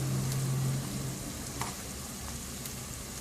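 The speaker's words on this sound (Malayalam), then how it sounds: "അപ്പോൾ ക്യാഷും സവാളയും നന്നായി ഫ്രൈ ആയിട്ടുണ്ട്" Cashews and onions frying in a pan, a soft steady sizzle with faint crackles, fairly quiet and close, with no talking.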